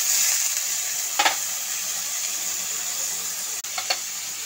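Radish greens and moong dal fry in a kadhai with a constant close sizzle, broken by a few brief scraping stirs.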